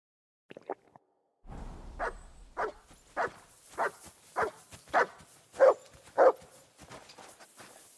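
A dog barks repeatedly in Kingdom Come: Deliverance II, about eight evenly spaced barks that grow slightly louder over several seconds, heard clearly with no talking.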